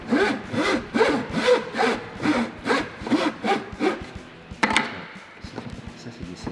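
Hand saw cutting a fret slot across a wooden electric guitar fretboard clamped in place, a steady run of about a dozen rhythmic back-and-forth strokes up close, then a short clatter and quiet.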